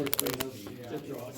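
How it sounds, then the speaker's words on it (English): Playing cards for the Kamigami Battles card game being shuffled by hand, a quick burst of crisp riffling at the start that fades into quiet handling noise, with a person talking over it. "So I'll just shuffle these guys up."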